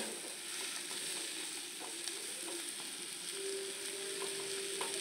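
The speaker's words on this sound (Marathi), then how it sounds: "मस्त असे आपल्याला 1-2 मिनिट परतून घ्यायची आहे" Patra leaf vegetable with garlic and chilli sautés in a pan, an even, faint and unbroken sizzle with light stirring and no voices.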